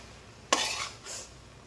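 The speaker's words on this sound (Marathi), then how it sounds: "आपले छान असे मोठे नूडल्स झाले सर्व आपण मी मिक्स करून घेते छान" Hakka noodles being stirred and tossed in a pan: two short scraping strokes of utensil against metal, close and clear, with no voices.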